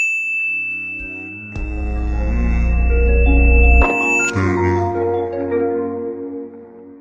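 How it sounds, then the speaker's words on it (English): A phone's ringtone plays loudly as a chiming electronic melody of ding-like tones, several notes ringing out and sustaining, with a bright high tone running through the first part and no talking. "Oh my god, I'm getting a phone call"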